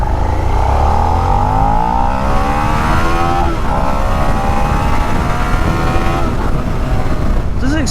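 A Suzuki SV650 motorcycle engine revs hard and climbs through first gear, loud and close throughout, with rising engine harmonics and steady wind noise underneath.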